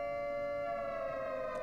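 A civil defense air raid siren holds a steady, sustained wailing tone with rich harmonics. It sounds on its own, clear and constant for the whole stretch.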